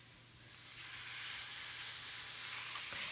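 Milk is poured gradually into a roux in a pan and stirred, giving a steady soft sizzle and hiss throughout, faint and close, with no talking.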